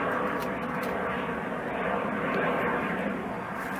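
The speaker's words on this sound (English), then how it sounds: "So, comes an airplane." An airplane passing overhead outdoors in the mountains, a steady broad engine roar holding at moderate loudness throughout, with no talking.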